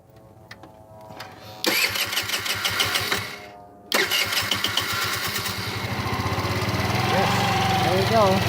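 An Urban Tank scooter engine, just fitted with new carburetors, cranks in short rapid chugging bursts, pauses, cranks again and then catches into a loud, rough, continuous running rumble close to the microphone.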